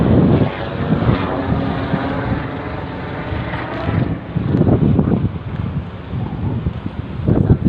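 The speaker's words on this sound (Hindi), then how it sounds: "ये जहाज़ भी जा रहा है, चेक करो चेक करो।" An airplane passes overhead outdoors in cool, breezy weather in Pakistan, a loud rumbling drone swelling and fading amid gusty wind noise on the microphone.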